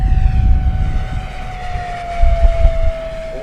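An FMS Diamond Hobby P-47 Razorback 980mm RC plane passes down a runway, flying upside down. A steady electric motor whine drops slightly in pitch over wind and handling rumble.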